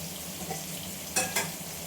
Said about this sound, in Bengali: এর মধ্যে একটু জল দিয়ে দিলাম